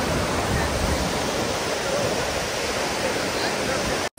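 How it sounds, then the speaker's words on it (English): The Manthokha waterfall in Skardu, a loud continuous roar of rushing water heard up close, steady throughout before a brief cut at the end. "Right behind me is the Manthokha waterfall."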